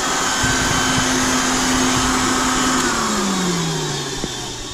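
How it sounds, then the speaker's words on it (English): A small, expensive Nilfisk vacuum cleaner runs without its pipe, giving a loud, steady motor whine and airy rush close by, with the pitch dropping slightly near the end. "lovely example of a very expensive little vacuum cleaner"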